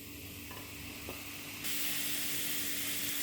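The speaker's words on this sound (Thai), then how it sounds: "เอาหมูใส่กระทะครับ" Steady sizzling hiss of pork frying in a hot pan, growing louder partway through as the food settles in, with a faint clink early on.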